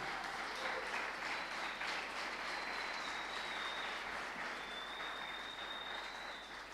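A church congregation claps in sustained applause, a dense, even wash of many hands that stays steady throughout and tapers slightly at the end.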